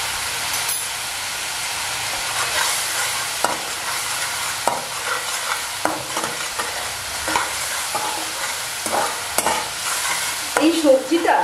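Spice masala stir-fried with a splash of water in a pan for a potato curry, a continuous loud sizzle broken by repeated spatula scrapes and knocks, busier toward the end, with no talking.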